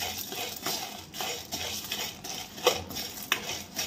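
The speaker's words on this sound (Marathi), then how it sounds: "इथं वडे आधी भाजून घ्यायचे। तेल नाही वापरायचं" Sandge vade, Nashik-style sun-dried lentil dumplings, being dry-roasted without oil in a kadhai and turned over, with light scraping and clinking knocks at uneven intervals and a couple of sharper taps, no talking.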